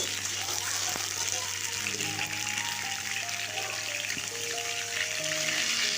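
Potatoes and cauliflower frying in hot rice oil for a winter mixed-vegetable khichuri give a constant, loud, hissing sizzle with steady texture, close up, while faint tonal sounds drift beneath.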